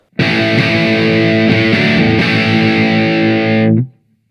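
A distorted electric guitar chord played through a Kemper amp modeler, full range, rings out loud and sustained for about three and a half seconds, then cuts off abruptly.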